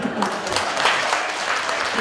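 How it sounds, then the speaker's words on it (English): Audience clapping after a speech at a Tri-Valley Chinese Community Day event, steady mid-level applause from a crowd with voices mixed in throughout. "Now you can clap."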